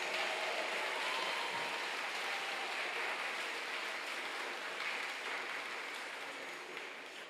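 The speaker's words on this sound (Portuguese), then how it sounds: "Pode aplaudir, é isso aí" A church congregation applauds during a Catholic sermon, a broad sustained hiss of many hands clapping that slowly tapers off, with no speech over it.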